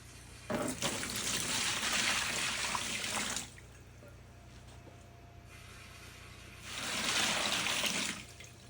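Water pours noisily into a container holding citric acid for a few seconds, stops, then pours again briefly, close by with no talking.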